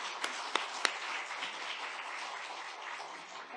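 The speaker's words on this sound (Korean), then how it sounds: "우리 하나님께 영광 박수 드리겠습니다" Congregation clapping in a church during an ordination service, a faint, steady patter of applause with a few sharper claps near the start, heard alone.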